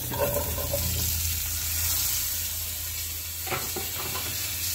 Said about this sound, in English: I'm going to go ahead and throw the potatoes in there, and I'm going to start frying these.